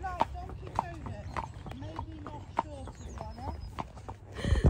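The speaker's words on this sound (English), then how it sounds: "Little pony over there." A pony's hooves clip-clopping at an unhurried walk, steady rhythmic knocks running under continuous talking, with a louder burst at the end.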